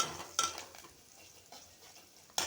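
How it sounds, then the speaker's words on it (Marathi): Spoon stirring a hot tempering of garlic, asafoetida, curry leaves and green chilli for kadhi: a faint sizzle underneath, with two sharp metal scrapes against the pan about two seconds apart, and no talking. "मिक्स करून घ्यायचा आहे"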